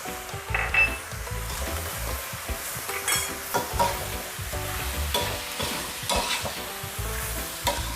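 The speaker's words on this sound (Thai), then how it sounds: "ก็ผัดให้เข้ากัน ให้พริกสุกหอมหัวใหญ่สุก" Meatballs and sweet peppers stir-frying in a hot pan, a constant sizzle overlaid with rhythmic scraping and tapping of a spatula on metal throughout.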